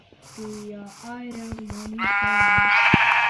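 Sheep bleat repeatedly in the Minecraft video game, a series of wavering calls that get louder and brighter toward the end, with a voice talking over them.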